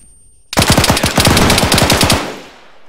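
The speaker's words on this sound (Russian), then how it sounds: "Это я стреляю." Rapid automatic gunfire from the player's own weapon in Arma 3, a loud close burst of about fifteen quick shots lasting under two seconds, then fading into a reverberant tail.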